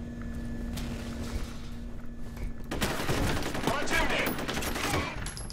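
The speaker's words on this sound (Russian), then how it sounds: "Так, ну новая пушка ничего так шмаляет." A new gun fires in the video game F.E.A.R., a burst of rapid shots that starts suddenly about halfway through and rattles on at close range.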